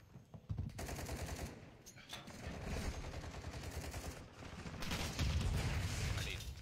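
Rapid hip-fired gunshots from a Call of Duty Modern Warfare 2 multiplayer match come in dense automatic bursts, loud and continuous through most of the stretch, with game noise and a voice talking over them.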